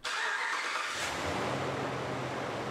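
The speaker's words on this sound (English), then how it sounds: "Start up the engine" A car engine cranks and catches, then settles into a steady, close, fairly loud idle, after brake booster replacement work.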